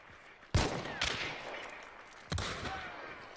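Gunfire in the Hunt: Showdown video game during a zombie fight: two sharp, loud shots spaced a couple of seconds apart, each with a long echoing tail, and no talking.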